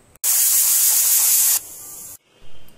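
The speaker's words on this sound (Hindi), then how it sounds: "हमने चने को 4 सीटी मरवा लिया है।" A pressure cooker boiling black chickpeas lets out a loud, sharp steam hiss that holds for over a second, then drops to a softer hiss before cutting off.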